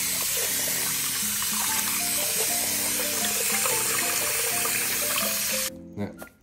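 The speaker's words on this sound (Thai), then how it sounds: "แต่เราต้องไปล้างข้าวก่อน" Raw rice being washed under a running tap, a continuous splashing water stream with rattling and swishing of grains for most of the stretch, stopping abruptly near the end into a few brief clunks.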